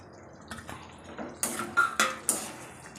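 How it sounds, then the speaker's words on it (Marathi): Bitter gourd pieces tipped into a pan of cooked masala with oil, giving a few clattering knocks and scrapes against the pan over a soft sizzle, alone and fairly close. "आता यामध्ये मी हे घेतलेले हे कारली टाकणार आहे"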